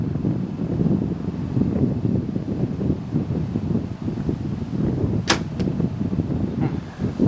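A single sharp release from a Hoyt compound bow snaps out once against steady, blustery wind noise rumbling throughout.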